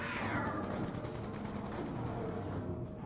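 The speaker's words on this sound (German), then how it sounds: "Die Schüsse der Waffe." Rapid automatic PDW gunfire in Call of Duty: Black Ops 2 Zombies mode rattles in a dense, continuous burst, loud and close, with no talking.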